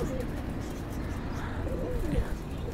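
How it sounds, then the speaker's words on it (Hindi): A Rampuri pigeon coos softly in a small home setup, low throaty calls rising near the end over a steady background murmur. "और ये रामपुरी कबूतर है।"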